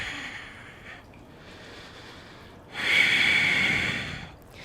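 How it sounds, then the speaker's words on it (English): Deep, slow breaths come during a hatha yoga stretch: a softer inhale and exhale, then a louder, longer breath near the microphone, with no talking. "Breathing deeply, really stretching it out"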